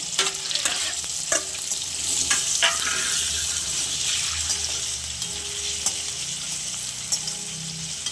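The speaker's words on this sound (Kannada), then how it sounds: "ಈ ಪನ್ನೀರನ್ನ ಸ್ವಲ್ಪ ಫ್ರೈ ಮಾಡ್ಕೊಳ್ಳೋಣ ನೋಡಿ ಫ್ರೆಂಡ್ಸ್ ಇವಾಗ ಪನ್ನೀರನ್ನ ನಾನು ಈ ಎಣ್ಣೆಗೆ ಹಾಕೋತೀನಿ" Paneer pieces fry in hot oil with a steady, bright sizzle that fills the whole stretch, broken by a few light clicks and stirring sounds from the pan.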